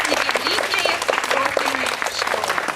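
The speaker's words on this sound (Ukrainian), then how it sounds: "Вітаємо всіх оплесками перших учасників" A hall audience applauds at a ceremony for young researchers, steady dense clapping throughout, fairly close and even in loudness.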